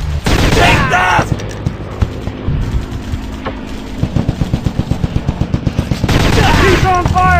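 Rapid machine-gun bursts and gunfire in the Commando Strike video game, loud and close, coming in quick rhythmic volleys with short pauses, sharpest near the start and end.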